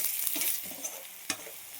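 Chili powder frying with chicken in a pan for garlic chicken fry gives a soft, steady sizzle with brief stirring scrapes, two sharper clicks standing out near the end.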